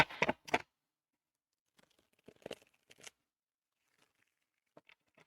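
A deck of tarot or oracle cards being shuffled, with a couple of sharp riffling bursts at the start and fainter scattered card rustles afterward, close and quiet with no talk.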